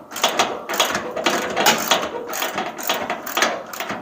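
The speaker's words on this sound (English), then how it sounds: "So I'm loosening up this fender to the firewall," Mechanical ratcheting and clicking as bolts holding a 1968–1972 Pontiac GTO fender to the firewall are loosened, a steady run of close, busy tool clicks with short bursts and no talking.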